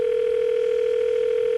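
A steady telephone dial tone, one unbroken continuous hum held at even loudness throughout, close and clear with no voices.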